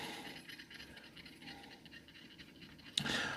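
A dog pants softly and rhythmically nearby during a fly-tying and fishing live stream, faint quick breaths that continue throughout, with a brief louder scrape near the end.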